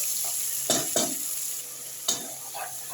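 Tomatoes stirred into browned onion and garlic in hot oil for an Arabic-style spicy shrimp majboos, a steady sizzle broken by a few scraping stirs of the spoon, close and without talk.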